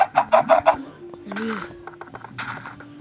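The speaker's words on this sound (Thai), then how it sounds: "แล้วทำไมไก่มันมาตรงนี้" Several chickens cluck in quick, loud bursts at close range, followed by a looser mix of softer clucks and a brief voice-like call.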